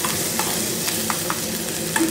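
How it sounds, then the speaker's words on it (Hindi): Onion with ginger-garlic paste frying in a pan, a steady close sizzle with a few brief scrapes of stirring, no voices. "मैंने इसमें डाल दिया है प्याज और अदरक लहसुन की पेस्ट, जिसे अच्छे से मैं भून लूँगी पहले"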